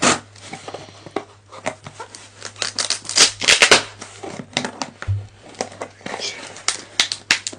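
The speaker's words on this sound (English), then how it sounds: "Okay, and cut this open." Cutting open the cardboard packaging of an Apple Watch SE 2nd Generation box, with close, repeated scratchy slicing and tearing sounds in bursts, while a person speaks softly.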